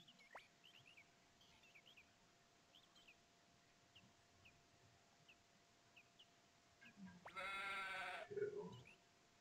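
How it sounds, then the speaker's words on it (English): Sheep bleat from the video game Suikoden II, a short burst of a few harmonic bleats near the end, over quiet game ambience with faint bird-like chirps. "You track down the sheep."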